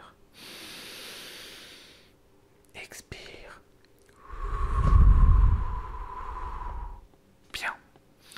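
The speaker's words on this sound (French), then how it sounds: "Inspire. Expire. Un petit peu plus profondément que ça." Slow, deep breaths drawn in and let out close to the microphone, soft and airy in a quiet room, with one longer, stronger exhale at the middle and a few faint mouth sounds between them.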